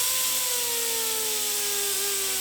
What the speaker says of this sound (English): the pneumatic die grinder is already starting to bog down